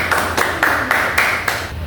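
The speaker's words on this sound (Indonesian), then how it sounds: "Tepuk tangan untuk Cipa." A classroom group claps in unison, about six even, evenly spaced claps in under two seconds.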